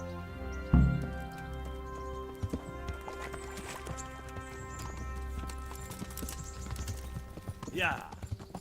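Horse hooves clip-clop steadily through a medieval Kingdom Come: Deliverance scene, a close rhythmic plodding with a brief whinny and some talk alongside.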